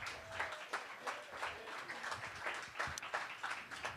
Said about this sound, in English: Round of applause for Randy.